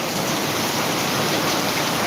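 Heavy, unbroken downpour in Jamkandorna, a dense steady hiss of rain filling the whole stretch at constant loudness with no voices.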